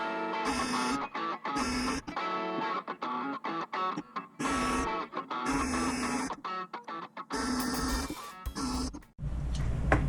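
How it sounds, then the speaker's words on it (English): A bandsaw cuts threaded rod for a 1/14 scale scraper model build, giving loud, close, whining bursts of cutting separated by short pauses, about eight passes in ten seconds. "So I got the bandsaw here"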